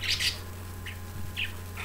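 Pet budgies squabble in a cage with bursts of high, shrill chirps and squawks. The calls come close and in short clusters over a low steady hum, with no talking.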